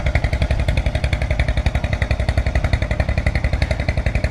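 A passenger trawler's engine chugs on the Ichamati river at low tide with a loud, rapid, even diesel putter. It stays close and constant throughout, with no voices.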